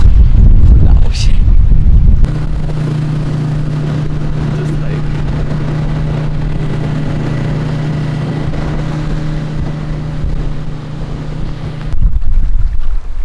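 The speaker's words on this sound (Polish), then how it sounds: "Jest łódka i ludzie, którzy płyną akurat na drugą stronę" A boat carrying hikers across Lake Torneträsk in northern Sweden, a loud steady engine drone with a constant low hum and wind noise running for about ten seconds before cutting off, with louder wind gusts at the start and end.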